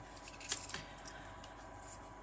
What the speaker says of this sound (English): let me find my scissors because I'm not tearing that very well